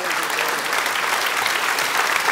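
A studio audience claps steadily for a guest named Bonnie, a dense, even wash of applause with no voices over it.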